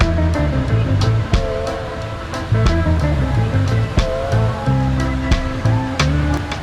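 Water surges in a continuous loud rush across a Flowrider surf simulator wave on a beach boardwalk, with steady roaring hiss and humming tones layered on top throughout.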